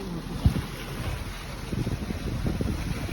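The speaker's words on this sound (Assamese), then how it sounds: "পূৰা বতাহ দি আছে" Strong wind on a bicycle ride to Majuli, Assam, roars and buffets the microphone in a steady, noisy rush, with a brief low thump early on; no voices.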